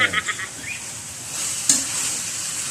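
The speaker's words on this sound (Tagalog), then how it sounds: "So, pagkatapos natin lagyan ng patis, yan, mekos-mekos natin." Batchoy Tagalog with liver and fish sauce stirred in a backyard pot, soft scraping and light sizzling with a few clinks of the utensil, close and fairly quiet, no speech.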